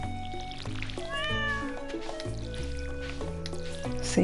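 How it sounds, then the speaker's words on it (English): A cat meows repeatedly in a short run of rising and falling calls, heard over a bright stepped musical backdrop without talking. "Say hi to the cat."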